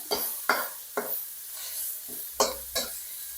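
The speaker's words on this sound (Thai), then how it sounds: "ผัดหมูให้สุกนิดหน่อยนะครับ" Pork stir-fried in a hot pan for a Thai pumpkin shoot dish, with sharp spatula scrapes and clacks at irregular intervals over a soft sizzle, close and fairly quiet.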